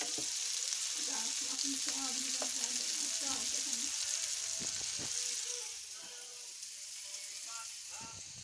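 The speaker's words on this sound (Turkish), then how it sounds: "Bir taraftan da köftelerimizi kızartmaya başladık." Meatballs sizzling and crackling in a hot pan, a steady bright hiss with faint clinks and murmured voices in the background.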